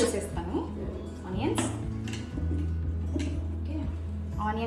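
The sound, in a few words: putting onions into a small mixer jar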